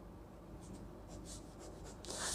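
Chalk or marker strokes on a board during a lecture, several short, soft scratches close by over a steady background hiss, with no talking.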